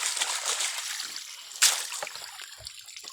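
Water splashes and trickles in a canal while gathered taro stems and leaves are rinsed, with close sloshing and one sharp splash midway.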